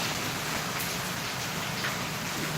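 Heavy rain pours down in a constant dense roar of drops striking surfaces, close and loud and unbroken, with no voices.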